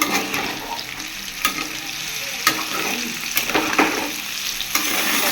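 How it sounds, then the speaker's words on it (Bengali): Potatoes and bitter gourd fry in a pan with a continuous sizzle, punctuated by several sharp scraping stirs and utensil knocks at irregular intervals. "আলু আর করলা ভাজা হচ্ছে"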